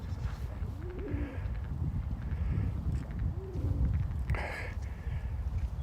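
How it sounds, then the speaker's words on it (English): Pigeons cooing in Łazienki Park, Poland: low soft throaty coos repeating a few times, fairly close, over an outdoor background hum with faint distant sounds. "those who like pigeons, in Poland they have a lot."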